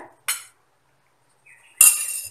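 A metal spoon adds wheat flour into a puttu maker in a home kitchen, giving two sharp, close clinks separated by a short silence, with a faint scrape between them.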